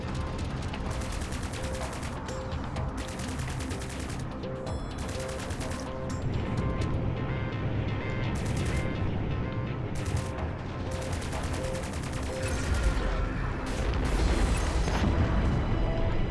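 Rapid machine-gun bursts from a spaceship in the space-combat game Strike Suit Zero, loud, dense rattling fire with booming impacts, broken by short gaps and continuing without letup.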